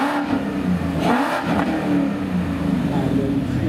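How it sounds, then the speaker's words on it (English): Modified car exhaust revving loudly and steadily at a parade event, a continuous throaty engine roar with some surrounding crowd noise. "we've obviously done a lot of work to the exhaust, which you can hear now"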